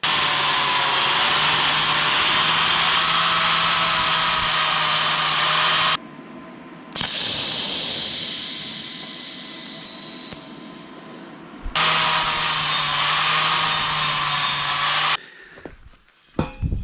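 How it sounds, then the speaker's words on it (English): An angle grinder works down a fresh weld on fabricated car suspension parts, producing a loud, steady abrasive whine in two long passes broken by a pause and quieter handling sounds, ending in brief clatter. "Let's get it ground down."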